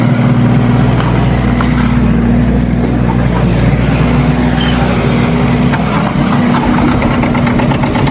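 A dumper on a building site, newly delivered from a plant hire firm, runs at a steady idle with a loud, close, low engine rumble throughout and no talking.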